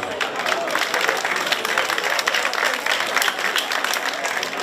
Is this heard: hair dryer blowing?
no